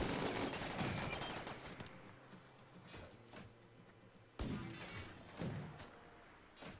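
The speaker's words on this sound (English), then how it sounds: "They're all like Gatling guns." Gatling guns firing in RimWorld, with rapid dense bursts of shots crackling in clusters, fading off, then a sharp renewed volley with a few heavy impacts near the end.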